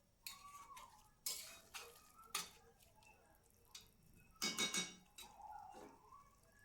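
A spoon stirs vegetables with sugar and water in a metal pot for a vegetarian labra curry, making a series of scattered scrapes and sharp clinks against the pot with quiet gaps between them.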